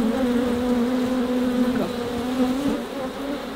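Honey bees at an open beehive frame of brood give a steady, close, continuous buzzing drone that holds evenly throughout, with no voices.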